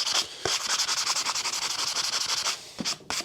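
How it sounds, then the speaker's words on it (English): Sandpaper rubs rust and dirt off the metal of a garden tool in rapid, rhythmic back-and-forth strokes, close and steady, with brief pauses near the start and end. "I'm just using the sandpaper to get whatever dirt or rust or whatever is on the metal."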